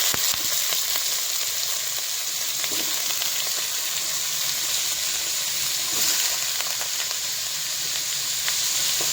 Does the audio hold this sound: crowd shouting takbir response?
no